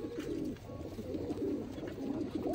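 Pigeons in a loft cooing in repeated low, rolling phrases at close range, several birds overlapping, with a faint background hiss and no talk.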